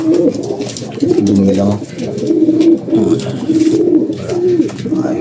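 Racing pigeons at a derby pigeon race coo repeatedly in low throaty bursts close by, with someone speaking briefly over them.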